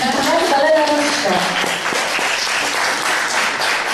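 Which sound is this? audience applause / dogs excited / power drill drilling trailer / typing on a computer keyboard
audience applause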